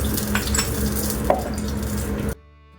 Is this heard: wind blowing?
no